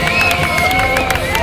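A crowd cheers along a Race for Life course in London, a loud, steady wash of whoops and shouting voices with a few high whistling tones, close and unbroken.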